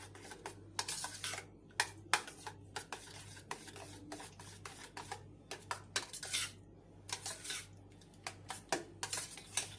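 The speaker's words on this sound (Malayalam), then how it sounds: "ഇതിനെ നന്നായിട്ടൊന്ന് മിക്സ് ചെയ്തെടുക്കുക." A spoon working curd salad with salt in a bowl, giving quick, irregular clinks and scrapes in uneven bursts against a low, steady background hum.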